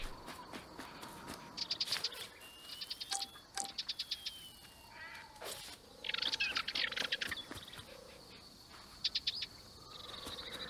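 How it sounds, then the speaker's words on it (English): Bird calls from a turtle dove in the wildlife exploration game Alba: A Wildlife Adventure, heard as repeated bursts of bright chirping notes spread across an outdoor ambience of insects and other birds. "Oh, just ordinary turtle dove."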